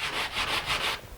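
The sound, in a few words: sanding an aileron with coarse grit sandpaper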